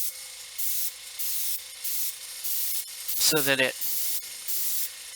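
Short bursts of aerosol spray paint mist a Guild Ball miniature model at an angle in thin coats, repeating in a steady on-off rhythm of about half-second hisses, with someone briefly speaking between them.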